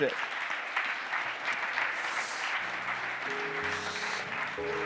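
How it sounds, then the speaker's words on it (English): Steady applause from a conference audience after a cybersecurity standardisation session, a dense even patter of clapping held throughout at moderate distance, with a faint tone entering near the end. "Give a big round of applause to our speakers in this."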